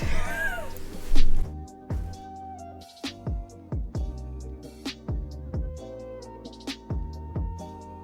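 A cat meowing repeatedly, a series of short, close, falling cries at a steady pace over several seconds.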